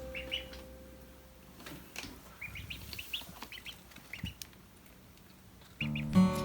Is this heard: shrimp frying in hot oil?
no